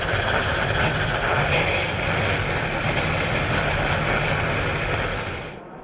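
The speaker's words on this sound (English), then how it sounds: "drivers, start your engines" A field of NASCAR Truck Series race trucks fires up at Kentucky Speedway, giving a dense, steady roar of many engines that stays loud and continuous before fading out at the end.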